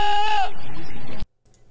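A human voice imitates a goat's bleat in a layered a cappella stack. The wavering, quivering tone sounds loud and close for about half a second, then fades into a softer trail before cutting abruptly to near silence.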